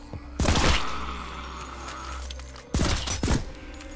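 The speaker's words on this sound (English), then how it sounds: "the bullets interact with the door" Bullets strike a door in a first-person horror video game: two loud, close bursts of rapid impacts with a low rumbling tail between them, no speech over them.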